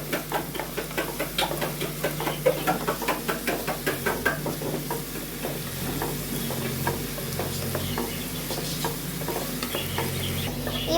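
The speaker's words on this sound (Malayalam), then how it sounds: "ഇതൊക്കെ ഒന്നിട്ടിട്ട് നന്നായിട്ടൊന്ന് വഴറ്റിയെടുക്കാം" Curry leaves and coriander sautéed in a pan for egg biryani, with a spoon knocking and scraping in a steady quick rhythm over a continuous sizzle, close and moderately loud with no voices.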